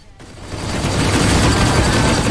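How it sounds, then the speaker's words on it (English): Rapid turret fire pours onto a ship in the space-combat game Rebel Galaxy Outlaw, a dense, loud barrage of blasts that swells after a brief quiet start and holds steady throughout. "Damn, I can't shut down the turrets. Just dodge."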